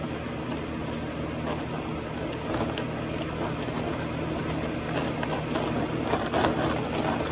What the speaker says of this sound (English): A lot of times I'll fidget with my keys.